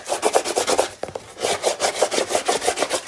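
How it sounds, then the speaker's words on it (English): Glued patterned paper on a notebook cover is burnished with rapid, rhythmic back-and-forth rubbing strokes, close and fairly loud, with a short break about a third of the way through. "let's get this burnished"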